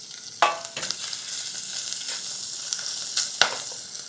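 Vegetables stir-fried in a Japanese yukihira pot, a single-handled pan with a wooden handle, giving a soft steady sizzle with a few sharp scraping stirs and clinks of the utensil against the pot, close up.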